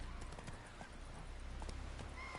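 Roach, a horse in The Witcher 3, gallops with a steady run of hoofbeats over a dense ambient game backdrop, with a faint snort or whinny mixed in and no talk.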